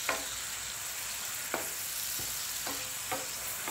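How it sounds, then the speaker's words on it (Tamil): Ground onion with ginger garlic paste sizzles steadily in a pan, with a few scraping stir strokes spaced through the hiss and no talking. "இப்போ ரெண்டு சேர்த்து நல்லா வதக்கலாம்."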